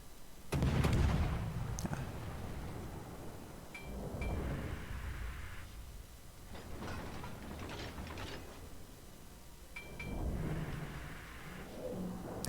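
Warship main guns firing in World of Warships, deep booming salvos spaced several seconds apart over mechanical clanking and turret-like whirring, moderately loud.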